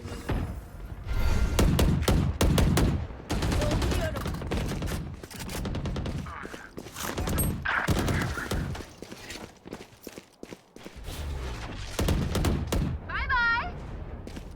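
Gunfire sprays in a Valorant match, several rapid bursts of shots cracking out between stretches of loud, overlapping voice chat from players talking through the round.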